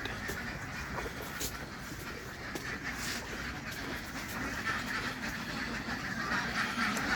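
Many CP Super laying ducks quack together in a duck house, a dense, continuous chorus, a busy crowded din of overlapping calls with no talking.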